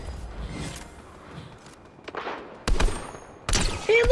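Shotgun blasts in Fortnite Zero Build competitive play: two or three sharp, loud gunshots come in quick succession near the end, with scattered game effects and faint movement before them.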